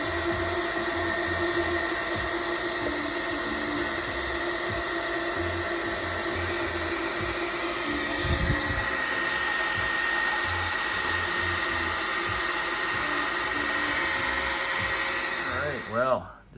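A boring tool cutting out a worn hole in an excavator part, a steady loud whining drone held for the whole stretch before stopping abruptly at the end.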